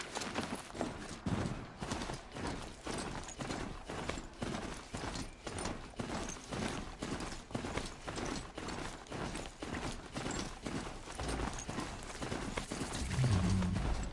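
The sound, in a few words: heavy armored footsteps in Horizon Zero Dawn video game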